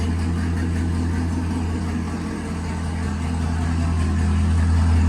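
A 2018 Chevrolet Camaro SS V8 fitted with a nitrous kit idles close by, a loud, steady deep rumble with a strong low throb and no talk.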